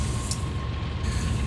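Freight train rolling downhill in the Run 8 train simulator game, a steady low rumble and drone with a faint high hiss, continuous and even throughout.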